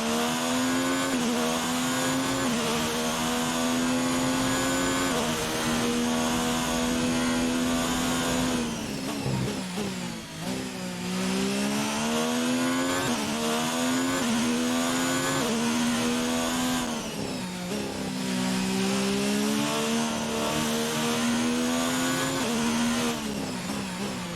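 Formula 1 car engine in F1 2019 at Bahrain, a loud continuous high-pitched whine that rises and falls through gear changes and revs, with a brief dip near the middle, alone without talk.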